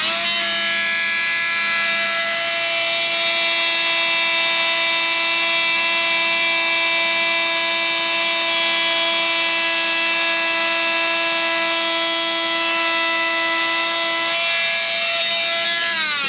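An oscillating multi-tool cuts a boat windshield along a marked line, producing a loud, steady high-pitched buzzing whine that holds nearly constant for over fifteen seconds, dropping slightly in pitch near the end.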